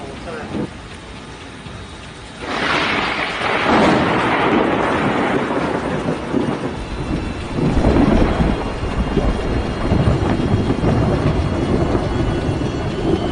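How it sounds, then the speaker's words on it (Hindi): Heavy rain roaring steadily during Cyclone Amphan, then a sudden thunder crack as lightning strikes a coconut tree, followed by a long rolling rumble. "तेज बारिश के साथ बिजली कड़की और नारियल के एक पेड़ पर जा गिरी"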